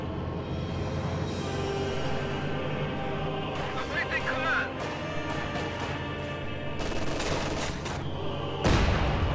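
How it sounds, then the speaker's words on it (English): A grenade goes off among conscript infantry in a World War II strategy video game, one heavy crash near the end above a constant bed of gunfire, battle noise and a commentator's voice. "Grenade going off on those conscripts forces them to retreat."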